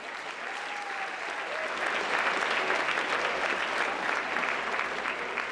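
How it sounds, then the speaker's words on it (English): A dinner audience applauds steadily for several seconds, a dense even wash of many hands clapping with no pauses. "Give her a round of applause"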